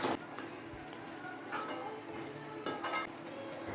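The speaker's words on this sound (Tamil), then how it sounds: "இது ஒரு 2 மினிட்ஸ் நல்லா கொதிக்கட்டும்." Soya chunks gravy, thinned with water, bubbles and sizzles in a pan close by, a soft steady hiss broken by a few brief scraping clatters.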